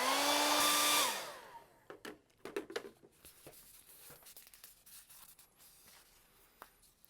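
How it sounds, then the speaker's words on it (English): A hair dryer roars loudly for about a second drying primer on EVA foam, then cuts off, leaving soft rubbing, tapping and handling noises close by. "And hair dryer time"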